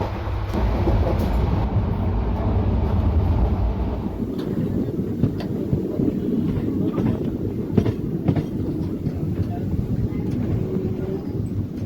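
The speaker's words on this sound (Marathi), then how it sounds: "आपली गाडी आपल्या प्रवासातल्या पहिल्या स्टॉपवर पोहोचत आहे" Kalaburagi–Kolhapur Superfast Express slowing on the Solapur–Pandharpur line toward Kurduvadi station, with a steady close rumble of wagons and clickety-clack rail joints throughout, growing rougher and more textured in the second half.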